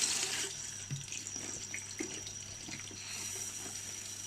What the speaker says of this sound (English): First, we need to wash the chili with water.